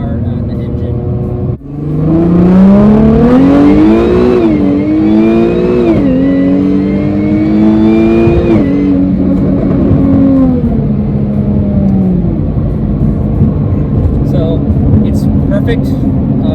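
A Jaguar F-Type V6 S engine revs hard through quick gear shifts, rising in pitch, dropping briefly, then climbing again several times before settling into a steady drone; the car is loud and close.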